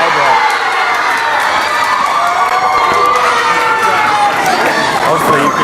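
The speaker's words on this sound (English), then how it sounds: "Hopefully you could hear me over the screaming." Spectators at a junior racquetball world championship girls' doubles match cheer and scream steadily, a loud, dense wash of high children's voices and shouting that lasts throughout.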